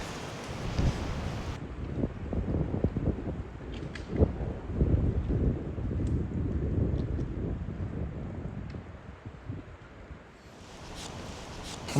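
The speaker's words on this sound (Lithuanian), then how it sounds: "Toks vėjas šiandien." Strong gusty wind buffets the microphone beside the Šventoji river while fishing, a loud rumbling roar that swells and eases throughout with no talking.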